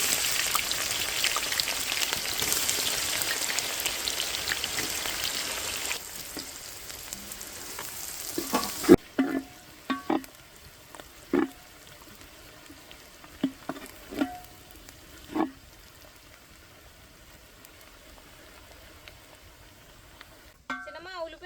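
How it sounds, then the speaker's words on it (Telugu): Chopped onions dropped into hot oil set off a loud, hissing sizzle for several seconds, which then settles to a quieter crackle broken by sharp clinks of a spoon against the pan. "ఇప్పుడు ముందుగా కట్ చేసి పెట్టుకున్న ఉల్లిపాయ ముక్కలు వేసుకుందాం."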